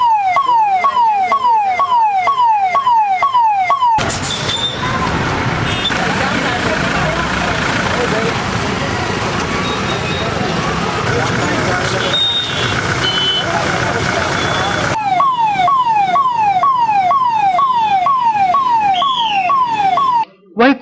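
Ambulance sirens wail in repeated rising sweeps from vehicles stuck in a roadside traffic jam caused by large parked trucks, loud and near, with a dense burst of traffic noise and voices masking them through the middle.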